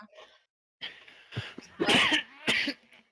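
A sharp sneeze bursts out after a couple of quick breaths, followed by a second, shorter sneeze-like burst, close and fairly loud.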